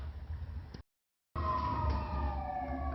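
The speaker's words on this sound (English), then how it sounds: "Hear a fire engine?" A fire engine siren wails steadily at moderate distance, cut by a brief total dropout before resuming with a rising and falling tone over low road rumble.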